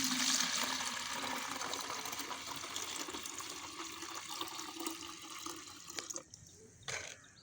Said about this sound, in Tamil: போட்டுக்கிட்டு 1 லிட்டர் அளவுக்கு தண்ணி ஆட் பண்ணிக்கலாம்.